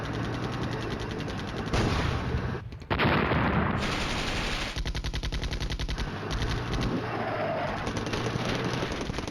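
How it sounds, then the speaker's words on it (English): Gunfire in the Flashpoint Campaigns: Red Storm war game: sustained rapid machine-gun bursts and heavy shots, loud and dense, with a brief break near the three-second mark before the firing resumes. "Something's still shooting at me"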